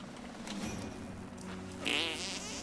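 A cartoon fart sound effect from the South Park: The Stick of Truth video game, a short buzzy, sputtering blurt near the end over quiet game ambience.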